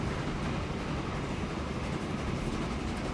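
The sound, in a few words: train running on rails in video game Transport Fever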